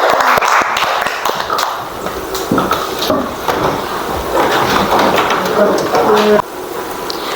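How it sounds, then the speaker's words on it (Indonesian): A classroom of students claps for a group after its presentation, dense, continuous applause filling the room at close range with scattered sharp hand slaps and voices mixed in. "Oke, hebat sekali kelompok B, kita beri tepuk tangan."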